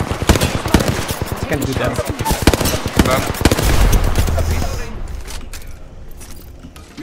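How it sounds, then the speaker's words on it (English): Rapid automatic gunfire in the battle royale shooter Apex Legends, a dense run of sharp repeated shots that thins out toward the end, with a voice speaking briefly over it. "I am taking fire."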